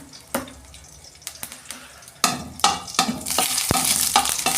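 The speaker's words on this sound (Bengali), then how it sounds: "এই যে একটা শুকনো লঙ্কা ফোড়ন দিচ্ছি, আর এই যে 5 ফোড়ন দিচ্ছি।" Dried red chilli and panch phoron hit hot oil for a mango chutney, giving sharp sputtering pops that build into a steady, close sizzle with occasional stirring clatter.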